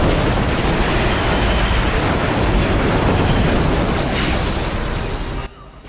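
Continuous heavy blasts and booming cannon explosions from Star Wars Battlefront AT-TE walker main cannons roar loudly throughout, dense and rumbling, before cutting off abruptly near the end.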